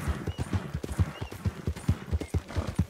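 Horse hooves clip-clopping steadily in the Western video game Dead West, an even, rapid walking rhythm of close, distinct hoof strikes with no talk.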